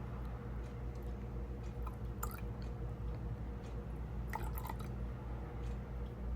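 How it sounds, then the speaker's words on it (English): Lemon essential oil poured and measured out to 1.5 ounces for a batch of cold process soap: faint, close liquid drips and small trickles over a steady low background hum, with no talking. "I'll measure out my lemon essential oil"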